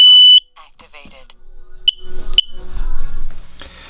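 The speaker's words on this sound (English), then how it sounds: "the smoke alarms in our house were going off" A household smoke alarm sounds with a sharp, piercing electronic beep at the start and brief chirps after, followed by muffled noise and a voice speaking.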